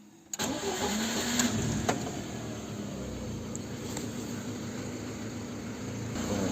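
A Lada Kalina, whose engine had been misfiring with the check-engine light on, starts after its engine control unit is repaired: a brief crank, then the engine catches and settles into a steady, even idle, close up with no talking.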